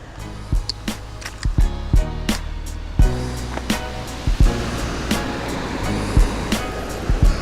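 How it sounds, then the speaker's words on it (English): Water surges through three open spillway gates on an Illinois river, a steady loud roar of churning flow with repeated sharp thumps and knocks near the mic, no talking. "They've got all 3 of the gates open, pumping water out."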